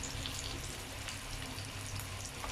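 Egg fingers fry in hot oil in a pan, giving a steady, dense sizzle with a faint crackle that continues evenly from start to finish, close and fairly quiet with no talking.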